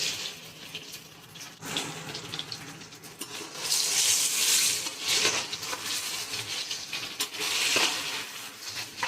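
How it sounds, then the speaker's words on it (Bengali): Potato pieces seasoned with salt and turmeric sizzle in a pan for a chicken curry, a steady close hiss that swells and fades with occasional stirring. "আলুগুলো একটু ভাজা ভাজা হোক, তারপরে আসছি।"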